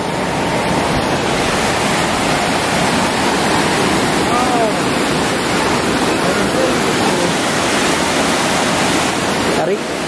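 A powerful waterfall in a village setting roars with strong rushing water, a loud, continuous broadband wash that fills the scene from start to end.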